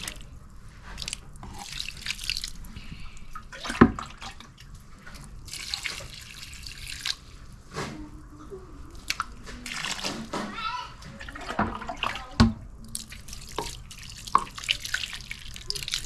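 Water is poured onto sandy soil while watering maize plants, producing intermittent trickling, dripping and splashing with scattered sharp splats, heard near and under a person's talking.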